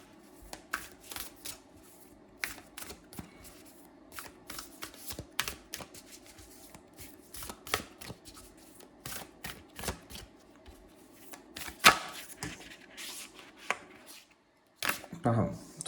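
Tarot cards are shuffled and laid out on a table, making quick riffling bursts and soft slaps and taps as each card lands, close and fairly quiet, with a voice speaking intermittently over the card sounds.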